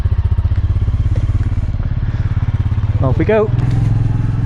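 A motorcycle engine idles in a loud, steady, rumbling thump, then revs as the bike rides off, with a short spoken phrase heard over it.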